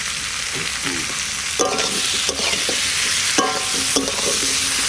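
Tomato, salt and spices frying and being stirred in a pan for a snakehead fish curry, with a steady close sizzle broken by several scraping stirs of the spatula.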